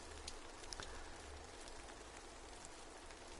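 Rain in the video game Dreams, a faint, steady hiss of falling drops with occasional tiny ticks, soft and even throughout, with no talking.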